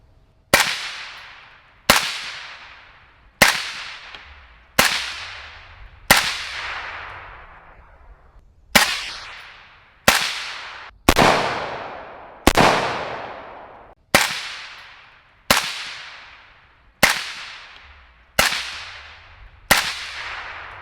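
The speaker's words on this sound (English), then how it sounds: "Now we got the Nautilus on the end. Let's see how she sounds." Fourteen shots from an AK-74 rifle fitted with a Black Anchor Tactical Nautilus suppressor, fired at a steady, unhurried pace: sharp close cracks, each trailing off in a short echoing tail, with nobody talking.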